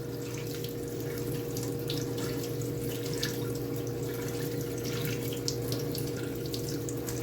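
Low-pressure water steadily rinses dirt out of a K&N high-flow car air filter, a continuous close splashing wash with a faint drip-like texture and no voices.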